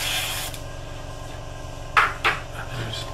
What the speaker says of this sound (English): we're just going to go back and spray it on all those areas